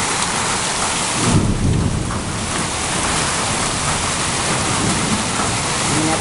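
First thunderstorm of the 2015 rainy season in Escazu, Costa Rica, with heavy rain pouring steadily and loudly close by and a deep rumble of thunder swelling near the start, no voices.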